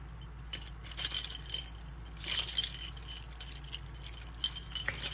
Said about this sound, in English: these little plastic pieces, when they hit each other, they're making... It sounds just like a bell